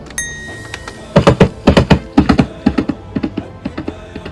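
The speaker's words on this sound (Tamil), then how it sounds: "இது நமக்கு பரிச்சயமான குதிரையோட சவுண்ட்." Layered horse hoofbeat sound effect: clustered percussive thuds in galloping groups of three or four, close and fairly loud, with no voices.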